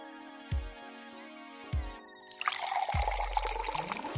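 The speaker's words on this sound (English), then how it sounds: "Hold on, I'll pour it into a cup." Water pours steadily into a paper cup after a couple of soft thumps, a continuous splashing trickle that fills the second half, fairly close.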